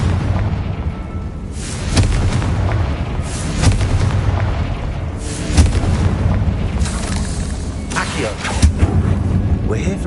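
Booming blasts of the Confringo spell in the Hogwarts Legacy video game, several heavy explosive thuds spread over a loud, rumbling background with speech mixed in.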